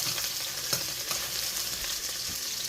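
Shrimp and garlic fry in a pan with a steady, close sizzle and crackle, plus a few light stirring taps, and no talk over it.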